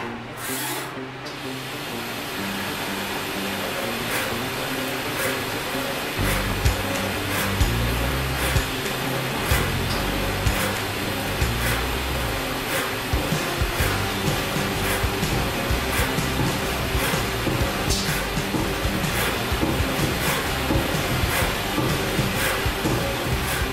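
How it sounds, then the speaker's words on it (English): A Haas CNC mill runs a broaching cycle, cutting a keyway with repeated passes: steady mechanical rubbing and scraping over a low machine hum, with regular sharp ticks from each stroke throughout. "And then we will output to MDI and run this broach cycle."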